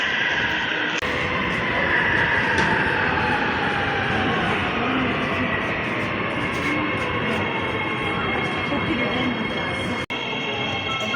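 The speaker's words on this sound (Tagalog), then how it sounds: "Nasa loob na kami ng train." Steady, loud rumble and hum from inside a moving Route 2 metro train, with constant wheel and motor noise filling the whole stretch and a faint voice underneath.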